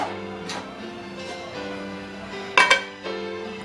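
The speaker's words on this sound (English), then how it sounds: "Now we are going to take another pan." A metal pan is pulled out and handled in a home kitchen while pasta cooks, giving a few close clanks and clinks, with one sharp double knock near the end over a steady low background hum.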